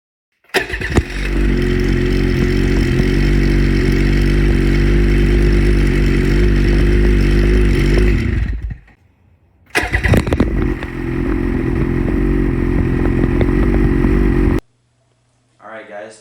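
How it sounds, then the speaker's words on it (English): A two-stroke 600 or 850 E-Tech engine on a 2022 Ski-Doo MXZ XRS snowmobile roars loudly up close, cuts out, then restarts and idles hard again before shutting off, followed by a brief low sound. "Now that you've heard the 600 and 850 E-Tech exhaust sounds"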